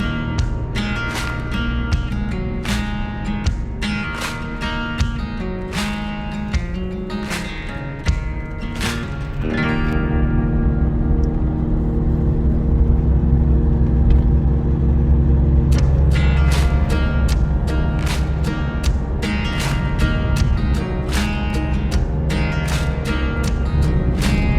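A car rolls through the town streets of Maleny in the Sunshine Coast Hinterland, a steady low engine and road rumble with varying passing noise, fairly close and continuous, no talking.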